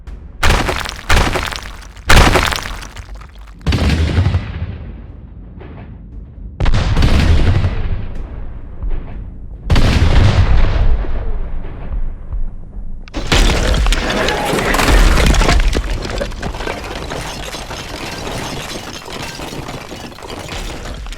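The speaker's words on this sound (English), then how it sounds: "The thunder of cannon echoed for 100 miles." Heavy booming cannon blasts and crashing impacts, loud and reverberant, followed by a sustained rumbling roar of continuous artillery bombardment against city walls.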